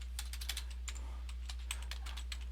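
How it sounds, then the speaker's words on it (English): Rapid, irregular keystrokes on a computer keyboard, close and clear, typed steadily over a constant low electrical hum with no voices. "if I don't hit the wrong things on my keyboard"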